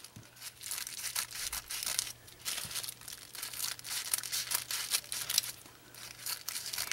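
Scissors snip rapid lines into folded Chinese tissue paper, giving a steady run of close, crisp rustling and crinkling cuts with no voices.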